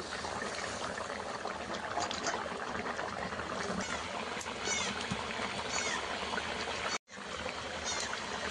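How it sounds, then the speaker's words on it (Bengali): Taro (ghati kochu) curry gravy bubbling steadily in a pot, a continuous close, moderately loud simmering hiss with faint pops, briefly cut out near the end, no talking. "একদম মাখা মাখা করে নামাতে হবে, সেই জন্য ঝোলটাকে আমি আরও ভালোভাবে ফুটিয়ে নেব।"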